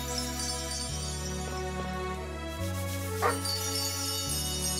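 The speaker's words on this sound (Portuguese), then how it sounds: "É um cachorrinho." Small dog barking in the video game Chained Echoes, a few short yips over steady game music that keeps playing throughout.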